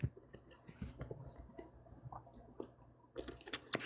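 Someone chewing cherries close to the mic, with soft, irregular wet smacks and squishes over quiet background, louder toward the end.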